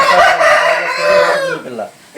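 A fighting rooster weighing about two to two and a half kilograms crows once, loud and close, its drawn-out call lasting about two seconds.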